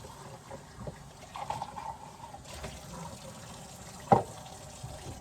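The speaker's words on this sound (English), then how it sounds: "Yes, I am still washing the yogurt cups" Running tap water splashes over yogurt cups being washed in a sink, a steady close trickle and gush with a sharp knock of plastic near the end.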